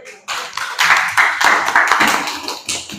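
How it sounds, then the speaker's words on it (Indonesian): Classroom applause for a student group during a teaching session, a burst of clapping from a small group that starts abruptly and carries on steadily, close and fairly loud. "tepuk tangan untuk kelompok 3"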